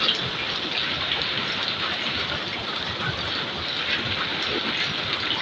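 Heavy rain pouring steadily in a dark outdoor setting, a dense continuous hiss of drops drumming on surfaces, loud and close with no speech over it.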